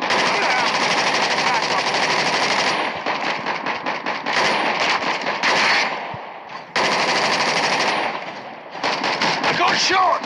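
Dense automatic weapon gunfire from a Call of Duty match fills the clip, with sustained rapid bursts, brief gaps and renewed firing, loud and close.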